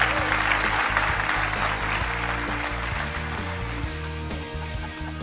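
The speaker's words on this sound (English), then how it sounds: "How about a round of applause, folks?" Applause from an audience at a photography event, steady and fairly loud throughout, with a low tonal hum and some music-like layering underneath.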